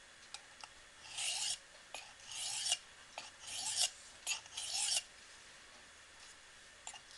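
A knife blade is drawn across a sharpener in light strokes to weaken the burr: four short, soft rasping passes, each lasting about half a second, with faint ticks in between, close and quiet, with no voices.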